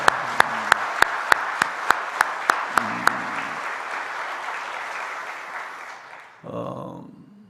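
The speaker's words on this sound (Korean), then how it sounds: "하나님께 영광의 박수를 돌릴까요?" Church congregation applauding during a Korean early-morning Monday worship service, starting with a few loud, evenly spaced single claps that swell into full applause, then fading out as a voice begins speaking near the end.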